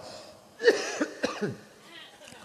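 A few short, rough coughs in quick succession, close and moderately loud, against a quiet background.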